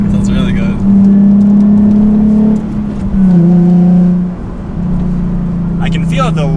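A Chevrolet Camaro SS V8 revs while driving, a loud steady engine drone rising and falling in pitch through several gear pulls, with people talking briefly at the start and end.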